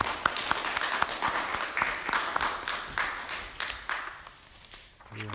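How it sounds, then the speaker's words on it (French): An audience at a talk claps in a moderately faint, scattered round of applause with distinct individual claps, tapering off toward the end. "Merci, on t'applaudit."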